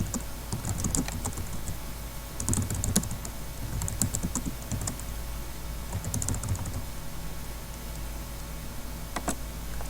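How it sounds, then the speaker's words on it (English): Keys on a computer keyboard click steadily while a slide title and subtitle are typed into an online presentation, the close, quick taps running over a low constant background hum. "So I'm going to type in my title and my subtitle"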